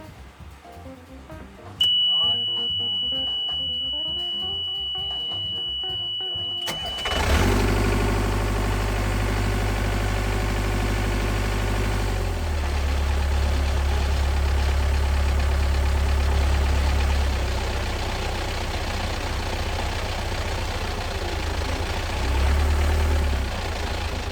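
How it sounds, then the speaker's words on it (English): A diesel engine with a rebuilt injection pump cranks over and settles into a steady, rumbling idle, loud and close, with a faint high beeping tone early on before it starts. "So got the engine started. We're able to run the engine."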